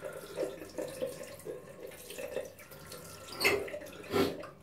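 Bathroom tap water running into a sink to rinse a razor during a wet shave, a steady close-up hiss and splash with a couple of louder sloshing bursts near the end.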